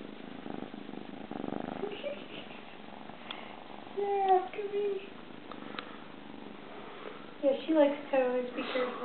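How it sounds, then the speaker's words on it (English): Kitten purring in a room full of kittens, a soft continuous low rumble with a few higher squeaky cries rising over it partway through and near the end. "Man, you were just purring away."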